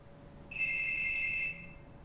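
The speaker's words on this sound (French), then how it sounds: "Ouais, ça sonne chez moi, ça sonne chez moi." Home telephone ringing, a single steady electronic ring tone lasting about a second, clear and moderately loud against a quiet room hum, with no talk.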